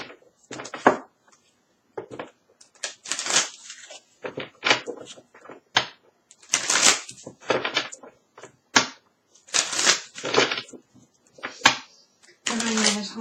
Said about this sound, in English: I'm getting another deck here. Allow me to shuffle